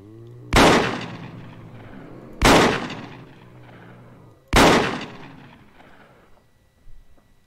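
Three loud gunshots from a firearm in the zombie survival game Project Zomboid, evenly spaced about two seconds apart, each a sharp crack with a ringing tail, then a faint fourth thump near the end.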